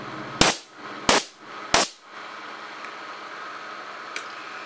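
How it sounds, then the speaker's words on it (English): A 24 V solenoid valve on an air cannon fires three short, sharp bursts of released air in quick succession, each a loud broadband pop with a brief hissing tail, followed by quiet background hiss and a faint click. "we can have the valve release just a little bit of air"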